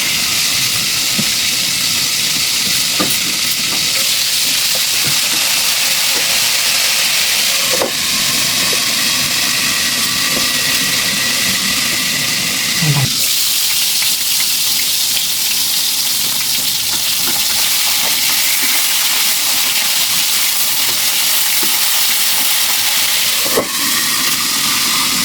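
Fish frying in a pan for a home-cooked lunch, a loud, steady hiss and sizzle that runs without a break, with small pops and a brief clatter now and then.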